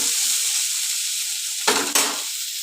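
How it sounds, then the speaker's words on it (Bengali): Ginger paste sizzles loudly in hot oil with bitter gourd and potatoes, a steady fry broken near the end by two quick stirring scrapes before the sizzle resumes. "আদা বাটাটা দিলাম, একটু ভালো করে ভাজা ভাজা করে নিই।"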